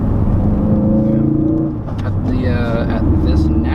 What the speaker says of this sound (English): it's a lot easier to downshift rev match in this car than my car